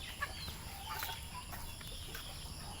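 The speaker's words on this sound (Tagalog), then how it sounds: "Ito yung ating chicken na pararamihin." Chickens on a Filipino backyard farm cluck in short, scattered calls over steady low background noise, with a few brighter clucks standing out at moderate distance.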